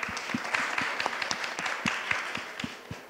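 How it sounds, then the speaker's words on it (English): An audience claps for three women panelists at a corporate leadership event, a moderately quiet patter of scattered claps that stays steady for a few seconds. "let's give all 3 of these ladies a big round of applause for being here."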